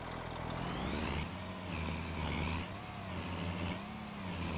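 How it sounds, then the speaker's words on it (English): A loud truck engine in Farming Simulator 25 drones steadily and close, rumbling low with a rising and falling whine on top and no break. "Also, just me, or is this a loud truck?"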